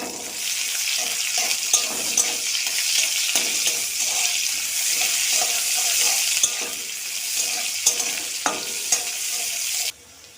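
Chopped onions frying in hot oil with bay leaf, cardamom and cloves for a fish curry, a loud steady sizzle with intermittent scraping and stirring knocks from a spoon against the pan, quieting near the end.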